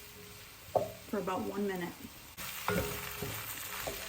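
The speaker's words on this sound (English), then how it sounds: "Just going to cook off the flour a little bit" Flour cooking in a soup pot for chicken noodle soup, giving a soft sizzle with stirring scrapes underneath a person talking throughout.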